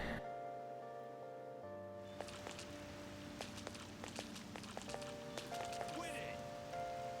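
Rain in the video game Persona 5 Royal, a steady wash of patter and droplets on surfaces, fairly faint, with a soft music drone underneath and light taps scattered through.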